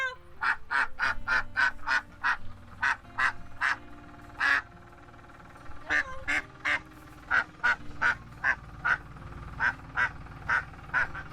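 Repeated loud quacks and honks from several ducks in irregular bursts, close by, with a low tractor rumble underneath.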